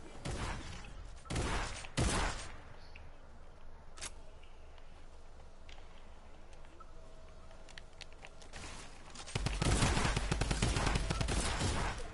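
A drum gun fires in Fortnite, with rapid bursts of automatic gunfire cracking out in loud clusters, separated by quieter stretches of ambient noise and a longer sustained volley near the end.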